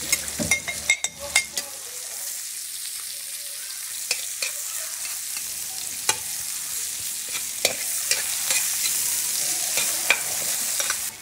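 Sliced onions sizzle steadily in a pan of hot frying oil while a utensil stirs them, sending sharp taps and scrapes every second or two above the constant close hiss.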